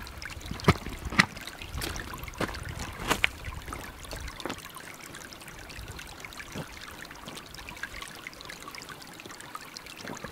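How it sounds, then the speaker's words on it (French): A small mountain stream runs close by on a hiking trail, giving a quiet, steady trickling and burbling with a few sharper splashes early on, faint and continuous throughout. "Le doux bruit du ruisseau qui coule juste à côté."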